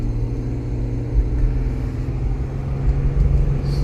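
A 2008 Nissan Pathfinder 4.0L 4x4 driving with the windows up, a steady, loud, low cabin rumble of engine and road noise with no talk.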